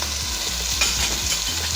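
Loud, close sizzling and crackling of chicken pieces searing in a hot pot, with a continuous hiss and occasional stirring scrapes.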